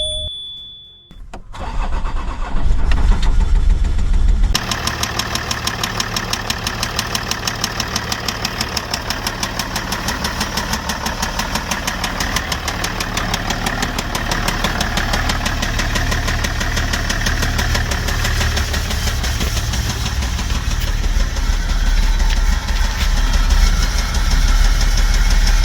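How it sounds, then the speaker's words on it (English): A damaged Range Rover 3.0 TDV6 diesel engine cranks and starts, then runs steadily with a loud, rapid, rhythmic knocking throughout the idle, close up and unbroken for over twenty seconds. "Okay, there's engine knocking for sure."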